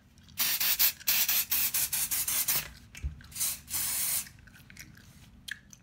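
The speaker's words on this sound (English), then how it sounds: "I like to spray because you can just spray it on." A can of cheap dry shampoo is sprayed onto a wig in a burst of close, hissing spritzes, some short and some longer, followed by soft rubbing and quiet handling sounds.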